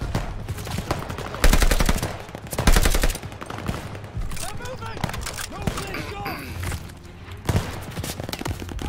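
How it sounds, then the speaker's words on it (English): Short bursts of automatic gunfire in the World War II shooter Call of Duty: Vanguard crack out loudly twice, followed by scattered battlefield shots while a player talks over the action. "I don't know why I'm shooting at them."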